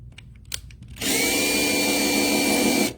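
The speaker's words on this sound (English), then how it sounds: "Get your drill. Drill right in the center." A power drill with a small bit whirs up abruptly and runs at a steady high-pitched whine for about two seconds, close and loud, then stops.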